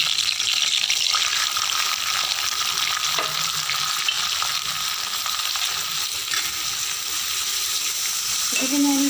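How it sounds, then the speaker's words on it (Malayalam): Garlic, onion, ginger and green chilli sauté in oil in a thick pan, giving a steady close sizzle with occasional stirring scrapes throughout. "ഇത് ഇനി നമുക്ക് ഈ എണ്ണയിലൊന്ന് വഴക്കി വെക്കും."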